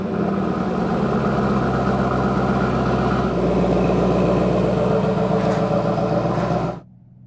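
Black Chevrolet Camaro ZL1 engine running steadily at a low, even idle-like rumble close by, holding nearly constant for about seven seconds before it stops abruptly.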